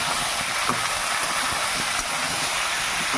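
Okra and pumpkin fry together in a hot pan, giving a continuous loud sizzle and crackle that stays steady throughout without pause.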